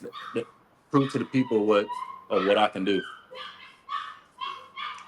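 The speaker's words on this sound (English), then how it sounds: "Sorry about the dog in the background." A dog barks and yips in the background of an MMA podcast conversation, with several short bursts and whimpers mixed in while a person speaks nearby.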